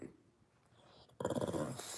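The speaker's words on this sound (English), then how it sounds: "Now you growling like Tyler said you would" A dog growls low and close, faint at first and then louder and rougher for the last second, with breathy rumbling.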